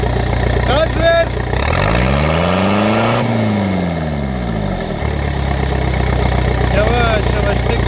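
A car engine that loses power on climbs, with a turbo that is not building boost, idles steadily and then rises and falls through one long rev. The sound is loud and close, with brief speech near the start.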